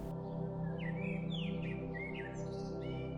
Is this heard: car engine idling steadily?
no